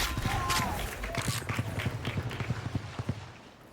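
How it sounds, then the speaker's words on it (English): Rapid, rhythmic footsteps in the Valorant video game patter steadily at close range, heard under an esports match soundscape. "Finesse hears the footsteps"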